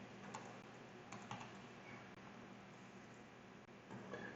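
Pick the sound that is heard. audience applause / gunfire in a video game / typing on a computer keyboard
typing on a computer keyboard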